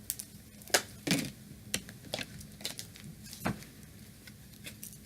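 A tarot deck being shuffled up close, giving irregular crisp card flicks and slaps, some sharper than others, over a low background hum.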